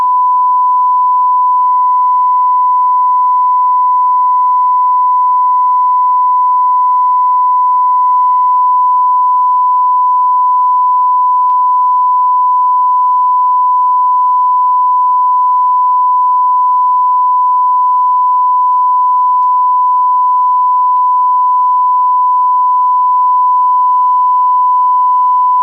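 A steady test tone played through a Hacker Mayflower RV14 radio, one clean continuous beep-like note held unbroken at a constant level with faint harmonics and no talk.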